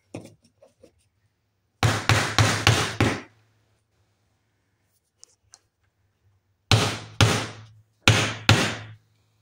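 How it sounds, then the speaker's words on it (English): Three bursts of rapid hammer blows driving a wooden piece into place, four or five sharp strikes each, separated by quiet pauses with a couple of faint taps between. "Now we just hammer this into here."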